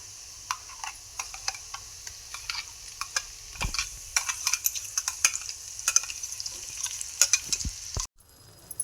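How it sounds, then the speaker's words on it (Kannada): Ground paste frying in oil for paneer bhurji, a soft continuous sizzle with frequent light ticks and scrapes of a spoon, close and steady before cutting off abruptly at the end. "ಇದು ಹಸಿ ವಾಸನೆ ಹೋಗೋ ತನಕ ಸ್ವಲ್ಪ ಎಣ್ಣೆ ಒಳಗೆ ಫ್ರೈ ಮಾಡ್ಕೋಬೇಕು ನೋಡ್ರಿ"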